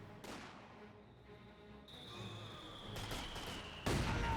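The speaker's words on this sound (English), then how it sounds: "an excellent mortar hit there onto the Volkswagen with STGs" In Company of Heroes 2, a mortar shell slams into a German Volkswagen carrying StG-armed troops, one of several distant battle bangs and crackles over a low rumble, with a sharper impact near the end.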